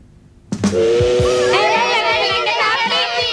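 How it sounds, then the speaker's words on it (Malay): A steam train whistle blasts loud and sustained for several seconds with a hissing edge, starting abruptly after a brief quiet moment. "T for train."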